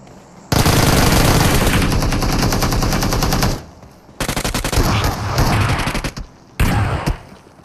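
Rapid bursts of gunfire from a mobile shooter game, loud and close, in long continuous volleys broken by short pauses and then further sharp bursts.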